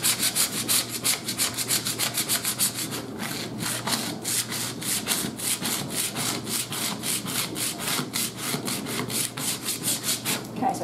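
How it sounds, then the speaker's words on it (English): A credit card scrapes stubborn adhesive and leftover paper bits off a cutting mat in quick, steady back-and-forth strokes, close and fairly loud, with no talking. "For the really stubborn parts, just take a credit card, just go in there and just scrape it."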